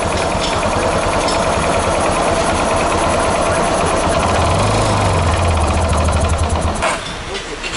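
A Yamaha Fazer 250 motorcycle engine runs at idle, a loud, steady mechanical drone with a low rumble that briefly swells before dropping off sharply near the end, heard close up with no talk.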